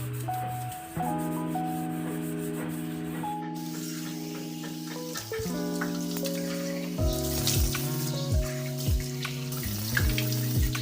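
Scrubbing and rubbing around a kitchen tap makes continuous squeaky, tonal friction that shifts pitch as the strokes change, over a constant watery hiss, with no one talking.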